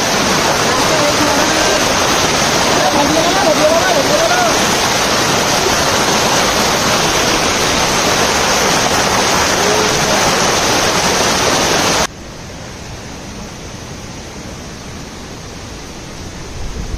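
A loud, steady rush of a waterfall in Keonjhar fills the scene, broadband and unbroken, with a faint voice briefly audible early on; midway the roar abruptly drops to a quieter, more distant wash of falling water.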